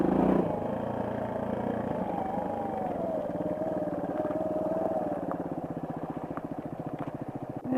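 A Suzuki DR200 motorcycle engine drones steadily with a pulsing mid-range hum as the bike rides a rough trail, heard close and continuous.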